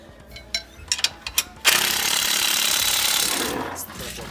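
Sharp metallic clicks on a 2020 Jeep Gladiator during a Rock Krawler 3-inch suspension upgrade, then a loud sustained impact wrench burst of about two seconds, close by, fading out with a few more taps.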